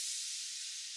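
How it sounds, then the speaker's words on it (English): A big EDM crash cymbal with a long tail, programmed in an 80s pop and 70s disco-style beat, rings as a bright, steady wash of sizzling shimmer, fading only slightly and heard alone. "so we have one big EDM crash"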